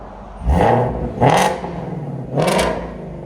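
Ford Mustang GT350 with 5.2L Voodoo V8, exhaust valves open, X-pipe and resonator delete, revved three times in quick succession, each blip rising sharply and falling back to a rumbling idle, loud and close.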